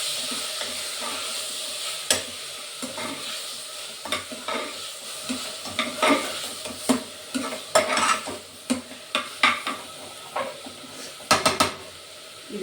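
Food is stirred and mixed in a pan, with onion-tomato paste cooking down alongside ginger and garlic. A low sizzle runs underneath while a spoon scrapes and clinks in irregular strokes, with sharper knocks against the pan near the end.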